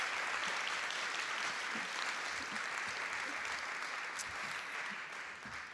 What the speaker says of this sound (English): let's hear a round of applause for all of our volunteers